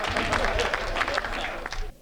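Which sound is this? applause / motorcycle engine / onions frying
applause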